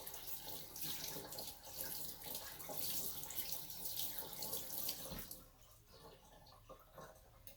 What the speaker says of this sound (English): let me get this rinsed out